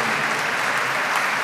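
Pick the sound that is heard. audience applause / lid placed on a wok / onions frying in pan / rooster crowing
audience applause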